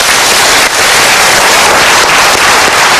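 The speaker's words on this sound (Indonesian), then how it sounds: "Kita berikan tepuk tangan." Dense, steady audience applause fills the room at a motivational talk session, loud and continuous with no voices over it.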